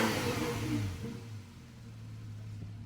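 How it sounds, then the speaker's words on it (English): A Porsche 911 Carrera S (991.1) with its sports exhaust switched on revs up with a rising roar that eases back after a second into a steady, lower exhaust hum, close by and alone. "And I'm going to press sports exhaust turned on."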